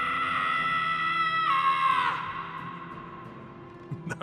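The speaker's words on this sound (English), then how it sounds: "Scream if you need to dull the pain." A character in the Telltale Guardians of the Galaxy video game screams in pain, a loud sustained cry that rises and then trails off over a low background hum, ending with a short breathy sound.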